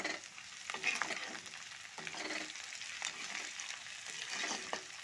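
Chopped green chilies tossed into hot oil in a pan, a steady soft sizzle with occasional scraping stirs of a spatula, fairly quiet and close.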